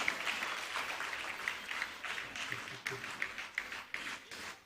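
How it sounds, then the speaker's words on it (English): Audience applause welcoming the principal, Madam Yogirani Sivabalan, onto the stage at a live music concert: a steady wash of many hands clapping at moderate distance, fairly soft overall, with slightly sharper bursts toward the end. "Let's give a big round of applause and welcome Madam Yogirani Sivabalan onto stage"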